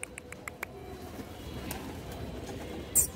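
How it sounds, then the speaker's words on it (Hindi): Pet pigeons cooing softly and flapping their wings, with a few sharp flutters at the start and a burst of wing beats near the end, fairly close and otherwise quiet. "देख सकते हो अपना कबूतर फटक रहा है, बढ़िया।"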